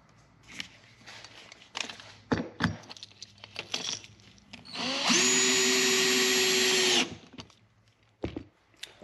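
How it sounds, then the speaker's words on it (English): A power drill driving a screw into a rattle trap fishing lure: a loud, steady whine lasting about two seconds, with a slight pitch rise as it starts, framed by handling knocks and clicks. "finish that screwing in with a drill"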